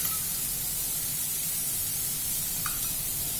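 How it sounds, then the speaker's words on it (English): Oil going into a hot pan of chicken and vegetable dim sum filling with capsicum, giving a steady, loud broadband sizzle and hiss that holds throughout, with a faint brief tick near the end. "Now that it is nearly well cooked, I will add a little more oil in it."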